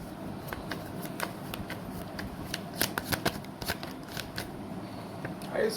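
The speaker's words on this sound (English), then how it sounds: "Let's take three cards for you." Tarot cards shuffled and drawn by hand: a quiet, close run of crisp card flicks and riffles with a few sharper snaps.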